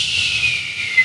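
A weak, thin whistle from a water tower, imitating a fire siren, holds a steady high tone for about a second at moderate level with a slight swell near the end.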